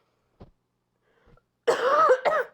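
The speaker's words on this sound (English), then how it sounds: "If I cough and stuff, I am sorry because I am still a bit sick." A single cough from a person who is still a bit sick, preceded by two faint throat sounds, then a louder, voiced cough-like burst near the mic lasting about a second.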